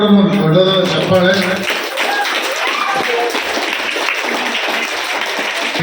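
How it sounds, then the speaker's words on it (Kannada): Applause from the audience at a school Sharada Puja event, dense clapping that carries on steadily after music or voices fade out early on. "ಇವರೆಲ್ಲರೂ ಕೂಡ ದೊಡ್ಡದಾದ ಚಪ್ಪಾಳೆ"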